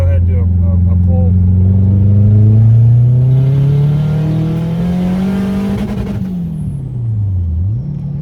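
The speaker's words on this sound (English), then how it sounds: "Ooh, that fucking ripped when the VTEC hit." A turbocharged Acura TSX with a K24 engine makes a hard acceleration pull, and the loud engine note climbs steadily as VTEC engages at high revs. The revs then drop and rise again near the end, with no talking.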